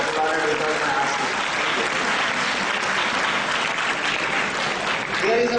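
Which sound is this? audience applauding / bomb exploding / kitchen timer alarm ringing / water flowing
audience applauding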